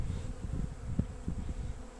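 Honeybees buzz in a dense, continuous drone at a beehive holding young colony splits. The swarm hum is close and even, with no voices.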